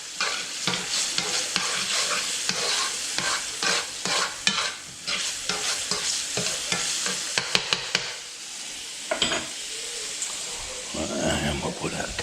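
Bacon sizzles and crackles steadily in a frying pan, with stirring and scraping clatter over a dense hiss, loud and close, with voices briefly audible in the kitchen.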